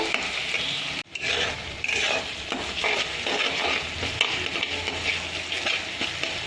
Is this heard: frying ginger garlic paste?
yes